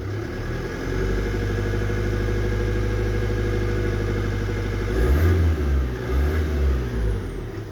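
A Ford Focus 1.8 TDCi diesel (KKDA/FFBA) with Siemens injectors and a worn dual-mass flywheel idles close by with a steady, low clatter. The sound wavers and rises briefly near the end.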